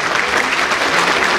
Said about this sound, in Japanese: 素晴らしい演舞に大きな拍手をお送りくださいませ